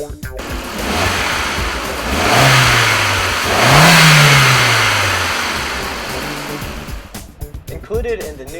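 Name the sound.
MK4 Jetta 1.8 turbo engine revving under load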